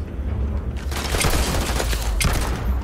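Rapid gunfire from the video game Starfield, a steady dense barrage of shots with a couple of sharper, louder cracks standing out near the middle and end.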